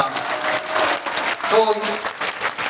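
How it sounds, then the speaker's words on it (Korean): Church audience applauding, a steady dense patter of many hands clapping at close range with a voice briefly audible partway through, set in a Korean church gathering. "여러분 박수로 감사합니다"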